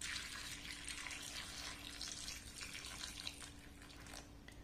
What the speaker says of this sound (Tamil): கிரேப்ஸ் ஃபுல்லா முங்குற அளவுக்கு தண்ணி ஊற்றி வச்சுக்கோங்க